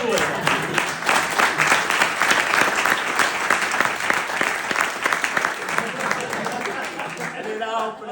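Audience applause fills the room in a dense, steady wash of clapping that holds for about eight seconds and begins to thin at the very end.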